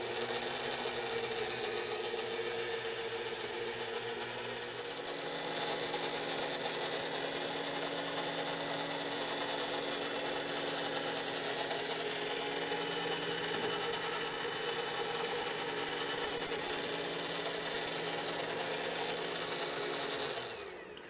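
An electric mixer beats eggs into fruitcake batter with a continuous whirring motor hum that shifts pitch slightly partway through, steady and close, with no voices.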